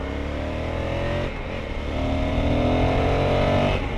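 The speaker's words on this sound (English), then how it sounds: "let's test this acceleration" A 2020 Honda Africa Twin CRF1100 motorcycle accelerates hard, its engine note climbing steadily and loud and close, dipping briefly before pulling up again, with no voices.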